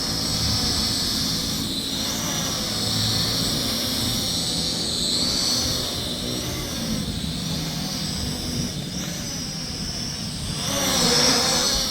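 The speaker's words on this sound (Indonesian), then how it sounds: "Oke, drone-nya sudah take off." A Fayee FY602 convertible drone-car flies outdoors in strong wind, its steady high-pitched rotor whine and buzz holding loud and constant throughout, swelling slightly near the end, with broadband wind rush underneath and no talking.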